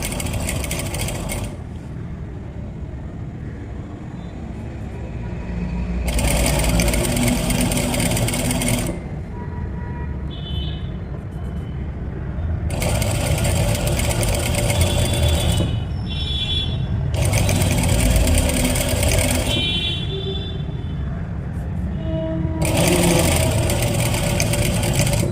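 A sewing machine stitches tucks in fabric in several slow bursts of rapid mechanical chattering, each lasting a few seconds, separated by quieter pauses with faint clicks and handling.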